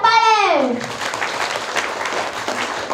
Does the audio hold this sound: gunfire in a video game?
no